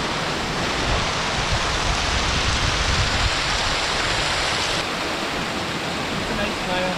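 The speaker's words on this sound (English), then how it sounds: "Onto the Coppermines waterfall." The Coppermines waterfall near Coniston in the Lake District gives off a loud, steady roar of falling water that fills the whole clip and stays constant and close.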